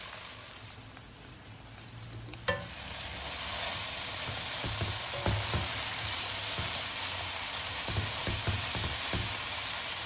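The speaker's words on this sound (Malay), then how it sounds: "So macam ni kita kena goreng few times untuk kasi dia garing." A jenahak fish head fries in hot oil with a splash of water until crispy: close, continuous sizzling with scattered crackles and one sharp early pop, growing fuller and louder partway through.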